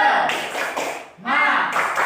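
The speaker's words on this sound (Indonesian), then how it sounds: "kita tepuk semangat dulu, tepuk semangat" A sixth-grade class claps out a short rhythmic cheer in bursts, close and loud, with voices chanting along over the clapping and a brief pause between the two bursts.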